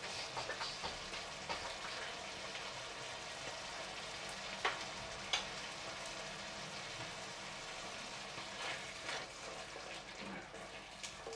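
Parmesan meatballs sizzle quietly in a pan with red wine and pumpkin, a low continuous crackle with a few small pops, faint and distant, and a voice talking at times.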